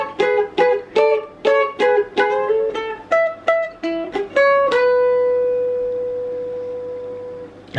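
A plucked mandolin picks a quick riff of bright single notes, then lets the final note ring out and slowly fade, close and clear.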